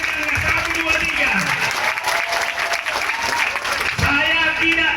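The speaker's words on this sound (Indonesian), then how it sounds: "Mari tepuk tangan dulu untuk Bapak Mangikut Sinaga ini." Sustained applause from a church congregation fills the whole span, dense and steady clapping with a speaker's voice rising over it at the start and again near the end.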